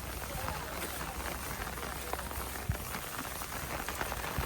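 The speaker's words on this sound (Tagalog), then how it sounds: "Ulan man, ulan." Rain falls steadily on a windy beach at Long Ke Wan in Sai Kung, Hong Kong, as a dense, even patter with a few sharper drops through the whole stretch.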